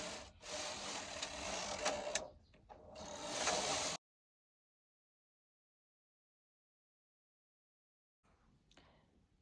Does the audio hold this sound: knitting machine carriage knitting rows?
yes